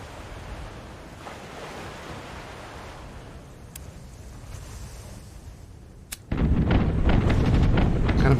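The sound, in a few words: ship cannon fire in a pirate video game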